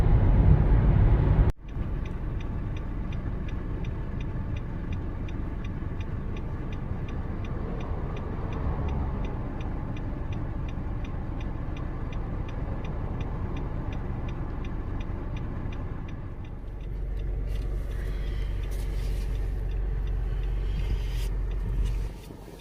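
Traffic flowing freely along the I-5 highway in Oregon during what is normally rush hour, a steady broad rumble of passing cars heard from inside a moving vehicle, with a faint ticking throughout and a brief louder swell near the end.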